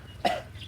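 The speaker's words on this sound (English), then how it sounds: "cough" A single short, sharp human cough, close and fairly loud, standing alone against a quiet low hum.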